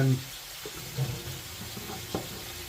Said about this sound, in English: I just want the chicken to sear